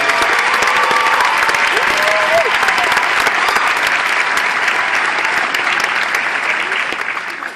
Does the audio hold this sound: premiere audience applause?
yes